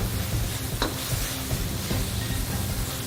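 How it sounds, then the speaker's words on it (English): Korean japchae stir fry being stirred and tossed in a hot pan, a steady close sizzle with scraping and clinking of the utensil, no talking. "I'm going to stir this, give it a nice little toss"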